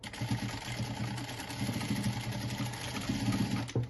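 A sewing machine runs steadily and close, stitching the nose onto the body of a plush fabric hedgehog with a continuous motor whir and rapid needle pulse.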